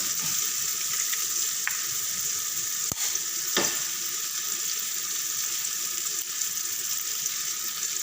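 An egg seasoned with salt and black pepper sizzles steadily in a pan, a loud continuous hiss with a couple of brief clicks and no voices.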